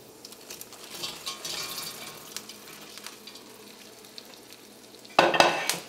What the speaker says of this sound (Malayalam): ഇനി ഇതിലേക്ക് നമ്മൾ വറുത്ത് വെച്ചേക്കുന്ന ചിക്കൻ ചേർക്കാം.